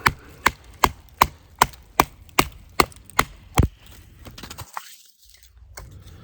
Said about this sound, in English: the first test we're going to do out here today is a little batoning. Got some pretty soft tulip poplar right here.